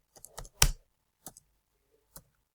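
Keys click while a chat message is typed in the game MovieStarPlanet. A few quiet, close, isolated clicks: a short cluster at first, then single taps spaced out, with silence between and no voices.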